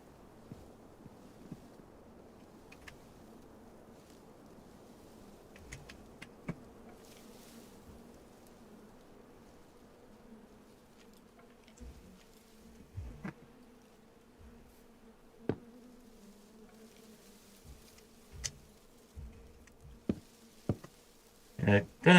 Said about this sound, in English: It sounds like bees, but it's actually more meant to be the sound of the wind.